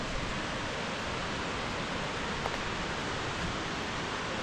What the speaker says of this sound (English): waterfall, Velika Slapa.